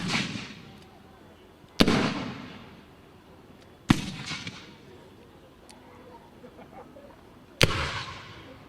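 Three sharp musket shots ring out at a New Zealand Wars reenactment, spaced several seconds apart, each a loud crack trailing off into a short outdoor echo over a low background murmur.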